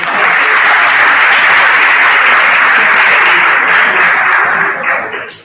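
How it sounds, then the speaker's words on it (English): Audience applause for a workshop prize winner at a hackathon, a dense, steady wash of many hands clapping that holds loudly throughout and begins to fade at the very end. "an applause"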